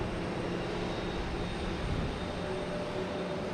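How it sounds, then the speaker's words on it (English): A Lufthansa Airbus A380 airliner passes over Boston Logan Airport, a broad steady engine roar that fills the whole few seconds at moderate distance with no voices. "We have the Lufthansa A380"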